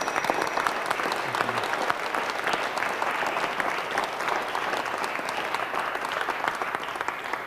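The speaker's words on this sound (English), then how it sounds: "A big round of applause for our" Sustained audience applause during a presentation on Liberating Structures, a dense continuous wash of many hands clapping at even loudness throughout.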